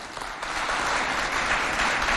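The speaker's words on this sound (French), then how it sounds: "applaudissez pour vous-même." Steady, dense applause from a crowd, clapping continuously throughout without pause.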